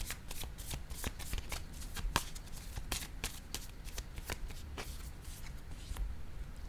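Tarot-style cards handled and laid down during a card reading, heard as a steady run of crisp, close papery flicks and slaps with no voices.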